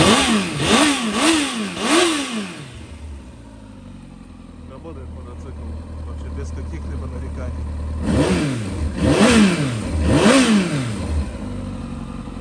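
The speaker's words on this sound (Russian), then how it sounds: "На газ откликается отлично, мотор работает тоже замечательно." A Kawasaki ZX-14R sport motorcycle on a cold evening, its engine revved in two bursts of three sharp rising-and-falling blips separated by a steady idle, close and loud.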